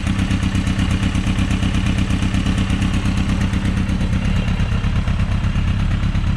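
A 1984 Yamaha FJ1100 motorcycle engine runs steadily close by, a loud, even, throbbing idle with mechanical clatter, heard alone without talk.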